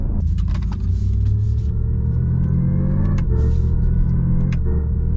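A 2026 Lexus RZ electric car plays a loud, close synthetic engine rumble that climbs in pitch. It drops abruptly at a simulated gear change and then climbs again.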